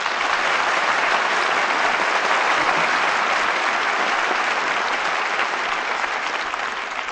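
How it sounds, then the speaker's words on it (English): A radio theater studio audience gives steady, dense applause, a broad continuous roar of many hands clapping at once that holds at an even, fairly loud level for about seven seconds with no voices over it. "I think that applause says it all"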